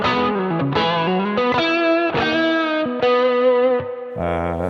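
Electric guitar driven through a Klon overdrive with chorus on a Quad Cortex, strummed chords and single notes ringing with mild grit and sustain, loud and up close with no voices.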